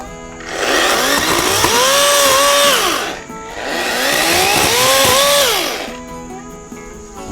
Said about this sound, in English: I do love this chainsaw, but certain times it does not do as well